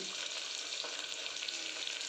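Okra tempering sizzles in hot oil with a constant, fairly soft crackle and some stirring, heard alone without voices.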